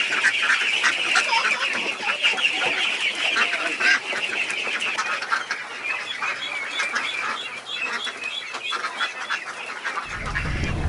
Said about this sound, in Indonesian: seperti peternakan bebek yang ada di belakang saya ini